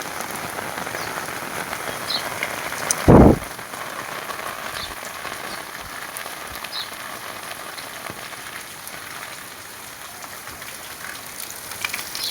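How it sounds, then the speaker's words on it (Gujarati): Heavy monsoon rain pours steadily near a flooded river in Gujarat village country, a dense close hiss throughout, broken by a single low thump a few seconds in. "વરસાદ ચાલુ જ છે."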